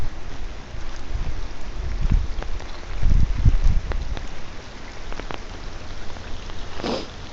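Rain strikes a military-style poncho close to the ear, with irregular sharp taps and heavier low drumming bursts over a continuous soft hiss.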